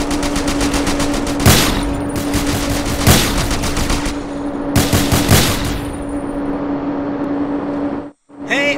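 Rapid automatic gunfire in GTA San Andreas, loud sustained bursts of shots over a steady engine-like drone, with several heavier volleys before a brief drop near the end.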